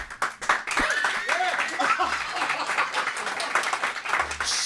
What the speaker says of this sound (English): That was a was I? respectful golf clap from the nation.